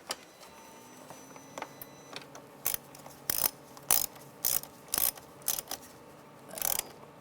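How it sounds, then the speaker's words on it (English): A ratchet tightening screws on a 2005-10 Volkswagen Jetta radiator, starting with soft scattered clicks and building into loud, close bursts of rapid clicking, each about a third of a second long and separated by short pauses. "install the screws that go right here and on the other side, and tighten them down"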